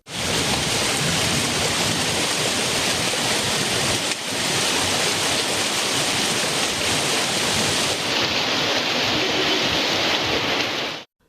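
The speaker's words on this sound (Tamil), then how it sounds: "திடீரென மாலையில் கருமேகங்கள் சூழ்ந்து பரவலாக மழை பெய்தது" Heavy evening rain pours onto roads in Tamil Nadu as a loud, dense, unbroken hiss that holds steady for about eleven seconds and then cuts off abruptly.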